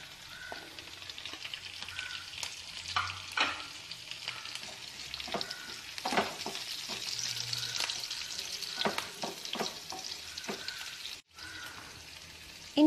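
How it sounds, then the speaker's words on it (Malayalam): Ginger, garlic and green chillies fry in hot oil with a lively crackling sizzle, punctuated by spoon clinks and stirring scrapes, briefly cutting out near the end; no talking. "ഇഞ്ചിയും വെളുത്തുള്ളിയും മൂത്ത് വരുമ്പോൾ നമുക്ക് പച്ചമുളക് ഇട്ട് കൊടുക്കാം"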